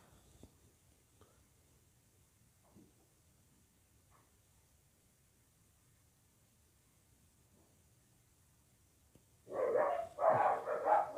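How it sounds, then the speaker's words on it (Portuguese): A dog barks in a quick cluster of loud, close bursts near the end, after a long stretch of near silence with faint background noise. "Um cachorro, né?"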